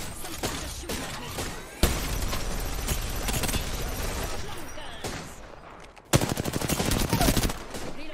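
Rampart's minigun Sheila in the Apex Legends video game fires in long, dense, sustained bursts, with a sharp renewed burst near the end and a voice talking at times.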